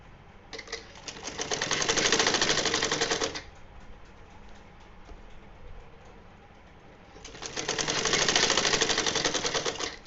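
A sewing machine stitches lace trim onto a small doll's summer dress in two loud, rapid bursts, separated by a quiet pause of a few seconds.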